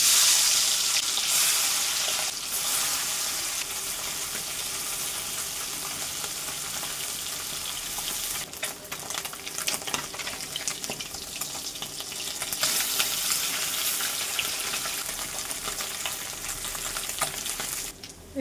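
Small mourala fish frying in hot oil in a home kitchen, giving a loud, continuous crackling sizzle throughout, with occasional soft scraping and stirring sounds mixed in.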